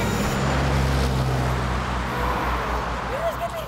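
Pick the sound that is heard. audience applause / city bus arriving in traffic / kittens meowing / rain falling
city bus arriving in traffic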